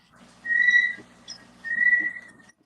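Two sustained high bird whistles, each about half a second long with a brief chirp between them, close and clear over a faint low hum.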